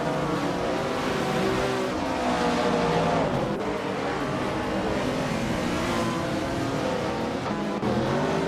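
Race cars accelerating off the start line at Sonoma in a racing game, among them a 1974 Porsche 911 Carrera RS, engines droning loudly and steadily with layered revving tones throughout.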